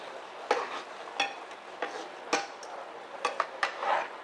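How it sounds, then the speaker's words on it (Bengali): Single fresh cream stirred in a pan while cooking mushroom-stuffed chicken with pasta: a spoon scrapes and clinks against the pan in irregular bursts, about eight distinct knocks over a soft steady sizzle, close and moderately loud with no talking. "এবার একটু নাড়িয়ে দিন এটা"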